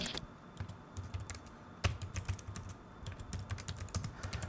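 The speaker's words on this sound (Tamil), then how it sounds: "ஸோ என்னோடய லாஜிடெக் கீபோர்ட் இங்கே. ஸோ இதை நம்ம ட்ரை பண்ணி பார்ப்போமே. இந்த சவுண்டிங் கேளுங்க." Typing on a Logitech computer keyboard: a quick run of soft, close key clicks in an uneven rhythm, with one sharper tap partway through, set against a quiet room.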